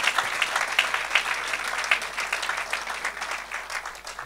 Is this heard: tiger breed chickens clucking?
no